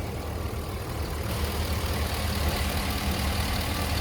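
A 2003 Chevy 1500 crew cab pickup idles steadily, a low, even engine rumble holding constant from start to finish with no voices.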